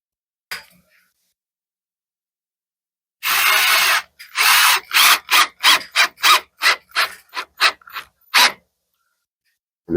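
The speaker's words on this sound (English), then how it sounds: "a drill that's specifically for sheetrock" A drywall screw gun drives screws into sheetrock: a long steady whirring run, then a quick string of about ten short bursts close up, with no talk.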